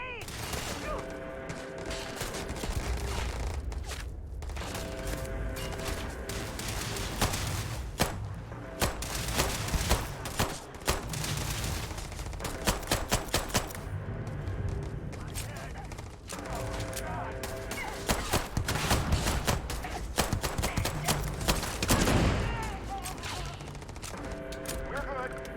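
Rapid bursts of gunfire from the video game Starfield, dense and continuous with thuds and booms, layered over game music, running steadily throughout.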